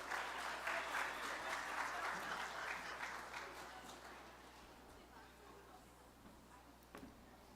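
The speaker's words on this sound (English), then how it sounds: "Let's give them a round of applause." Wedding reception guests applauding Xavier and Tehilla after the speeches, a full burst of clapping that gradually fades to scattered claps and room murmur.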